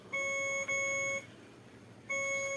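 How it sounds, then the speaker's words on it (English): Electronic beeping: two long, steady tones a moment apart, then a third begins after a short pause. They sound clean and fairly quiet against a faint background hiss. "we beeping again"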